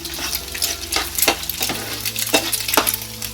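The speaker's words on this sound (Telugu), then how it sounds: "ప్లెయిన్ జస్ట్ ఎగ్స్ మాత్రమే ఫ్రై చేసుకుంటున్నాం" Plain eggs fry in a pan for egg rice, crackling steadily while a utensil scrapes and clinks against the pan in a regular stirring rhythm, close and clear.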